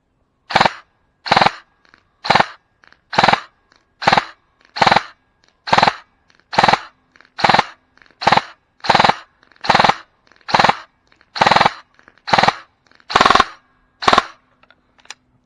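A G&G ARP9 airsoft gun is fired through a full magazine outdoors. Loud, crisp single shots come alone at a steady rhythm, about eighteen of them, each separated by a short silence.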